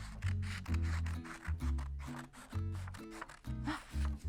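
Scissors snip through paper along drawn lines to cut out a paper love bug for a Valentine's Day kids' craft, a run of short, close rasping cuts repeating over a low steady background hum.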